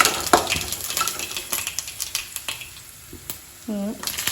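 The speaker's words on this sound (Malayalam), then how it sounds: "ഇവിടെ നമ്മളെ ഉള്ളി വാടുണ്ട്." Onions sauté in a pan with a soft sizzle broken by scattered clicks and pops of stirring. A short whistling tone briefly rises near the end.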